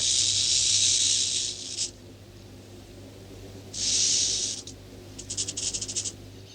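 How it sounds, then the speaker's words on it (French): A rattlesnake shaking its tail rattle, a sharp dry buzzing hiss in three bursts: a long steady one, a shorter one, then a final stuttering series of quick pulses, close and alone over a faint low hum. "voici le sinistre bruit de crécelle du serpent à sonnette"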